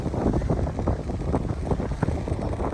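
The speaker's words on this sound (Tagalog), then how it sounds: "Naririnig nyo yung alon." Rough, steady wash of surf and water churning under strong wind buffeting the microphone, loud and continuous throughout.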